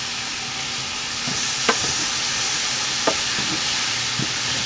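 Chopped garlic sizzles in a hot pan, a steady bright frying hiss with a few soft scrapes and taps as it is stirred.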